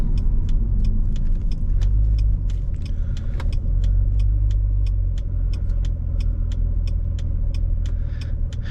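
Cabin noise inside a C5 Chevrolet Corvette cruising at 50 mph on a fairly smooth road: a steady low engine and road rumble with a regular series of sharp, light clicks and rattles ticking through it.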